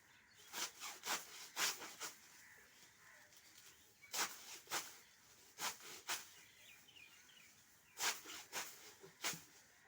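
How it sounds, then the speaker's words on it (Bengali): Straw being cut by hand: sharp, rasping strokes come in quick bursts of three or four, with short pauses between the groups, fairly close and without talk. "তো দেখতে থাকো কিভাবে খড় কাটছি।"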